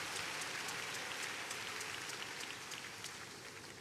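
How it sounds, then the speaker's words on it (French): A church congregation applauds together in a dense, even wash of clapping that goes on for the whole stretch and slowly fades, heard from a distance and fairly faint, with no voices standing out. "Acclamez pour lui."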